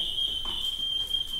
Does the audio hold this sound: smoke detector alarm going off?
yes